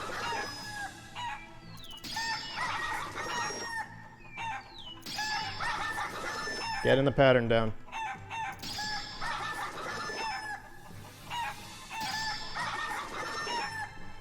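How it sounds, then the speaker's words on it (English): Chickens in Shenmue 3 cluck and crow in repeated bursts, with a rooster-like cock-a-doodle-doo standing out loudly midway, mixed with game sounds and a brief spoken line. "Come here, chickens! Come here!"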